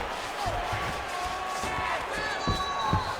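Arena crowd noise in the UFC 5 fighting video game, a steady broadband roar of cheering spectators with a few thuds from the bout, filling the whole stretch at a fairly even level.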